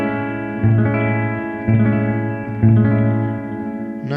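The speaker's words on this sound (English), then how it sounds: "let's play an A with this seventh" An A seventh jazz chord on guitar, fingered with the root on the sixth string, is strummed three times at a steady pace, each strum ringing out with effects-colored sustain, played alone.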